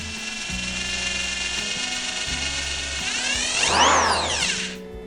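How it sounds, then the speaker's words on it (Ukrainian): An electric screwdriver rated at 550 W, powered from a portable power station, whirs with a steady, close mechanical ratcheting drone, its motor pitch sweeping up and then down near the end. No one speaks. "Чуєте, шуруповерт працює."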